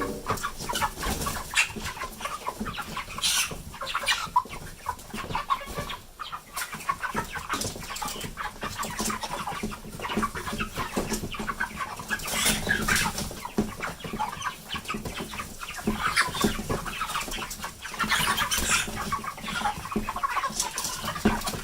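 Chickens cluck and chatter continuously, a busy flock close by with scattered louder squawks and no talking.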